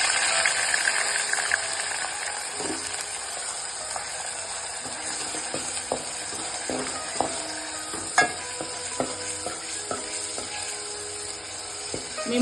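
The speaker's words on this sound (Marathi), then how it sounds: "बघा आता आपलं हे तेल तापले. आता आपण जरा ते टाकू आणि ही ग्रेव्ही आपण भाजून घेऊ." Chicken rasa gravy frying in hot oil in a home kitchen pan: a steady, close sizzle runs throughout, broken by scattered clicks and scrapes of stirring, with no talking.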